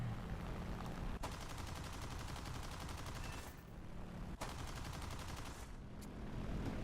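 Aircraft guns in a flight combat video game fire in long sustained rapid bursts, loud and close, broken by two short pauses before the stream resumes.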